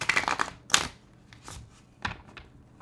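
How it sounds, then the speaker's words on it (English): Tarot cards being shuffled up close, soft papery riffles and flicks in short bursts separated by quiet gaps, faint and intimate in a calm room. "A little bit of card shuffling ASMR."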